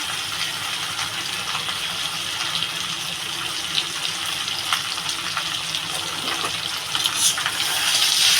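Milk poured into a pan of Bengali shukto while it cooks makes a steady, loud sizzling gush that swells near the end, with no voices.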